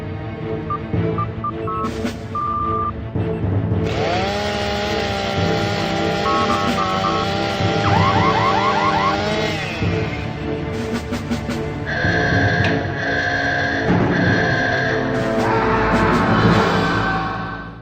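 A chainsaw surgery cutscene from the 1997 game Theme Hospital: a harsh, buzzing, motorized whine rises and holds, layered with dense mechanical noise and eerie tones, loud and sustained for most of the scene.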